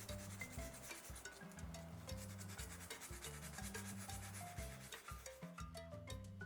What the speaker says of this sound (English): Just keep sanding away.